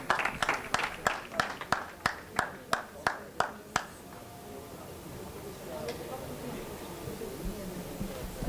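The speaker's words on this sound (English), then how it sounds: "A round of applause for Mutusi," Audience clapping at a youth climate conference session: about a dozen sharp, evenly spaced claps in unison at a brisk rhythm, then the clapping stops and a quiet room murmur remains.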